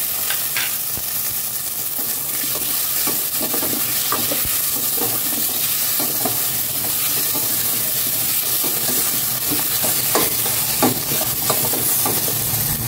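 Garlic, onion, tomato and chili sautéing in plenty of oil in a pan, a loud steady sizzle with repeated scraping stirs of a utensil throughout, no voices.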